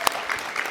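An audience claps for judges and sponsors at an early-career pitch competition, in a brief steady burst of dense clapping.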